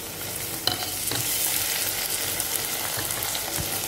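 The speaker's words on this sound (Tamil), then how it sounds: "1 தக்காளி வந்து நம்ம இப்படி கட் பண்ணி இதில் போட்டு நம்ம நல்லா வறுத்துக்கலாம்." Cut tomato fries with onions in a pan, making a continuous bright sizzle with occasional stirring knocks and clinks, no talking.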